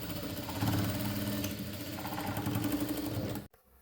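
A sewing machine stitches saree fabric with a continuous close, buzzing whir and rhythmic motor vibration for about three and a half seconds, then cuts off abruptly.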